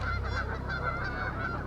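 A flock of geese honking continuously outdoors, a dense, loud chorus of overlapping calls with no one talking.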